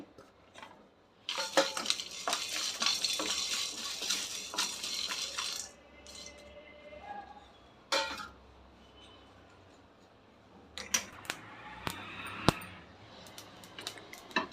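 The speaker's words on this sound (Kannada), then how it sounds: "ಇಷ್ಟನ್ನು ಡ್ರೈ ರೋಸ್ಟ್ ಮಾಡ್ಕೊಳ್ತೀನಿ" Bay leaf, cardamom and pepper dry roasting in a pan for donne biryani, heard as a rattling, scraping stir with sharp clinks of spoon on metal, a quieter stretch, then more scattered taps and scrapes close by.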